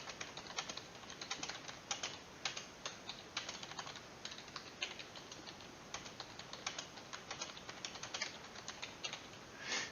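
Rapid, continuous typing on a computer keyboard, close and clear, with dense clicking keystrokes and occasional heavier strokes, running throughout with no talk.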